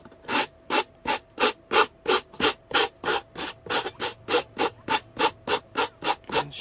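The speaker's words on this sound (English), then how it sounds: "sand the edges off and it's really nice and smooth when you do it like this." Repeated sanding strokes along the edges of a wooden tea box, about seventeen even back-and-forth rasps in a steady rhythm, close and fairly loud, with a faint steady hum underneath.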